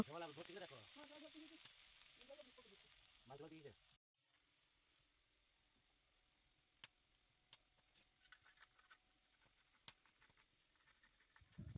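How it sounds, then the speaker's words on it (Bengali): A voice talks briefly, then a low, steady sizzle of potatoes frying in oil runs on with scattered small crackles and pops. "আলু দিলাম আলুটা একটু ভেজে নেব"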